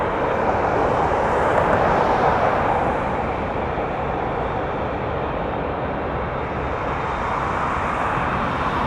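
Air Canada Boeing 787 Dreamliner taxiing to line up on runway 23 at Toronto Pearson at night, a steady loud jet engine roar and whine with slow swells, heard from outside without voices.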